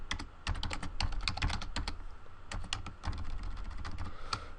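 Rapid typing on a computer keyboard, close and steady, with bursts of clustered keystrokes and brief pauses, heard alone without talk.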